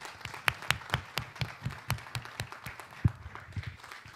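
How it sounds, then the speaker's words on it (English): Church congregation clapping at a Mother's Day service, a loose rhythmic patter of hands with a few louder nearby claps standing out, fairly sparse and steady. "Give her a round of applause."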